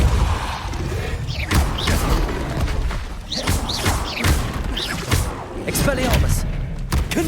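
Depulso force spell impacts in the video game Hogwarts Legacy, a string of heavy thuds and crashing hits over a constant roaring game soundscape, loud and busy, with voices woven through.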